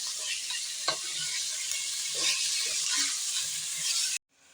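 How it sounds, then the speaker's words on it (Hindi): Chicken pieces being fried for a homemade pizza topping sizzle steadily in a pan. Occasional stirring scrapes and clicks sound up close until the sound cuts off abruptly near the end. "उस वक्त तक हम भूनते रहेंगे जब तक ये पिंक से वाइट ना हो जाए।"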